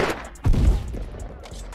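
Rapid gunfire from a video game set in the hood crackles in a short, dense burst, loud and close, with a heavier thump partway through.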